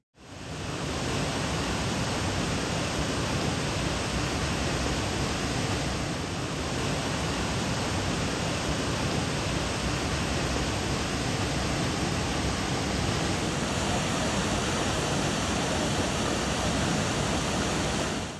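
Waterfall beside a woodland hiking trail, a loud, continuous rushing roar of falling water that stays steady throughout with no voices.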